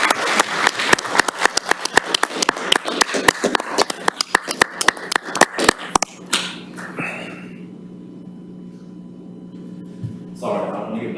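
A round of applause at a town council meeting, honouring a department crew: brisk, dense hand claps for about six seconds that stop abruptly, followed by quiet room tone and a brief voice.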